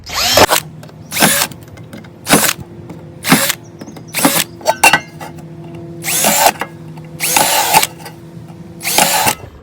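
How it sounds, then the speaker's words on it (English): A power drill with a 1/8 inch bit whines in repeated short bursts, about eight spurts of drilling pilot holes with brief pauses between, close and loud, biting into wood. "Got an 1/8 inch drill bit. We'll drill some pilot holes first."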